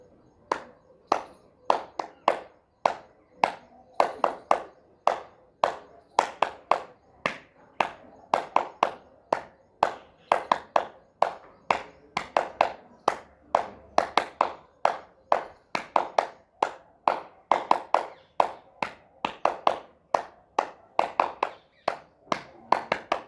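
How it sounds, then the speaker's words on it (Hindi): Steady rhythmic hand clapping during a home yoga class, done to press acupressure points in the palms; about forty sharp claps in a regular, even beat, near and loud with no talk. "हम अपने हाथों में जो एक्यूप्रेशर पॉइंट्स हैं उन पर दबाव देने के लिए ताली बजाएंगे।"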